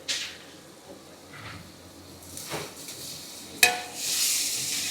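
Ginger garlic paste hitting a pan of fried tomatoes, with intermittent sizzling, soft stirring scrapes and a sharp clink of a utensil against the pan, then a steadier hiss of frying.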